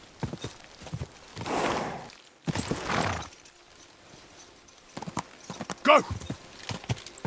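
Horse hooves clip-clopping and galloping in the video game Kingdom Come Deliverance 2, rhythmic thuds close by with bursts of rushing noise and a whinny, while a voice shouts briefly over them.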